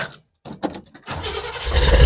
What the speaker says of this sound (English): Let me fire up the Monte